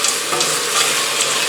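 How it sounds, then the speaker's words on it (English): Garlic, onion, anchovy and tomatoes sizzle steadily in a hot pan as they are stirred, a close, continuous frying hiss with faint scraping. "So just stir that in."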